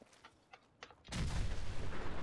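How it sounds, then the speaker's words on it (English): A large explosion in the video game Fallout 4 bursts in after a second of quieter crackling and faint taps, then roars loud and broadband as a sustained rumbling blast with no talk over it. "That was a big explosion."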